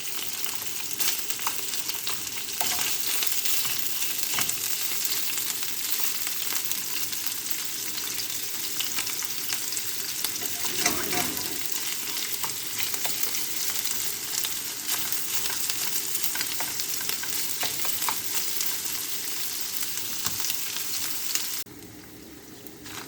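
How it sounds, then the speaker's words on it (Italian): Crumbled sausage browns in a pan with a spatula breaking it apart for pumpkin and ricotta pasta, producing a dense, continuous close sizzle with faint scraping stirs. The frying runs for over twenty seconds before easing slightly at the end. "Ho lasciato rosolare la salsiccia 2-3 minuti"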